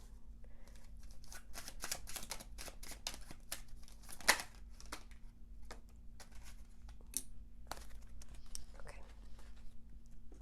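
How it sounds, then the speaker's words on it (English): Tarot cards being shuffled by hand, a quiet run of soft riffling and flicking taps up close, with faint speech between them. "I'm just going to shuffle out the last card."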